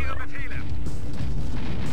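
A rocket launcher fires in Command and Conquer: Red Alert, a short booming blast with a rumbling tail, heard with a voice over it.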